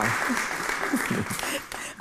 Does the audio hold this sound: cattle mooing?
no